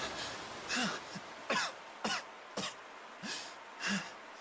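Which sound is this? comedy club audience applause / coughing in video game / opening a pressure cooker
coughing in video game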